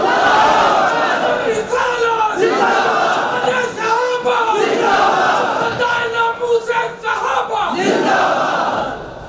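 A large seated crowd at a religious conference in Gujar Khan chants slogans in loud unison, rhythmic shouted phrases rising and falling in repeated call-like waves.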